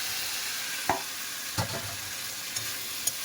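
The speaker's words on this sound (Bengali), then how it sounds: "এইবারে ভেজে রাখা আলু আর কচু দিয়ে দেবো" Fried potato and taro sautéed with spices and bay leaves in a pan, a continuous steady sizzle with a few soft scrapes and taps of stirring.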